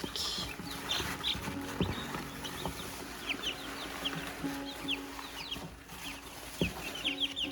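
Ten small chicks peep with high, scattered chirps while lower clucking and rustling from fowl continue steadily around them at moderate distance, with no talk over them.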